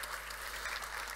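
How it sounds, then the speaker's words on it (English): Brief burst of audience applause for conference panelists in a concert hall, steady and mid-level with no speech. "an applause to our panelists"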